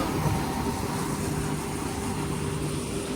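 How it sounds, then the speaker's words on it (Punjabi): A combine harvester's engine runs at a steady low rumble, continuous and moderately distant, with no voices over it. "ਇੰਜਣ ਦੀ ਆਵਾਜ਼ ਦੇਖ ਲਓ"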